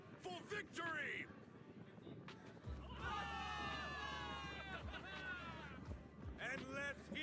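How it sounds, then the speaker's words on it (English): Soldiers in the Zenless Zone Zero video game let out a rousing cheer for victory, a loud, sustained crowd roar of many voices in the middle of the clip, with a single voice talking before and after. "Give it up for yourselves, soldiers! Cheer for victory!"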